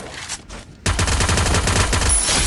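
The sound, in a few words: gunfire in a shooting video game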